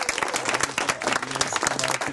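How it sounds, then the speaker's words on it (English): Dense audience applause for the panelists at an urban food panel during an anniversary party, steady clapping from a crowd throughout. "I think we just have a round of applause for all our panelists."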